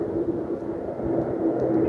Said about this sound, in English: Here's an opportunity for you to see one of these military planes that often fly.